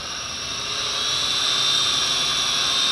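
A small Eachine E708 quadcopter drone hovers nearby with a steady, high-pitched whine of buzzing propellers that grows slightly louder and stays continuous.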